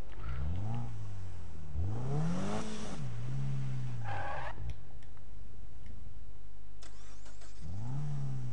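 Honda Civic engine in the Need for Speed racing game, revving up and dropping back in several surging bursts with gear shifts, a steady engine drone between them.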